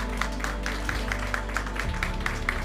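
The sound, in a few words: audience applause for a burger contest finalist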